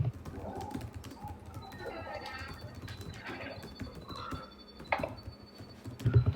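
Typing on a computer keyboard during an online group discussion, with scattered clicking keystrokes in irregular bursts, moderately close, over faint background sounds and occasional voices.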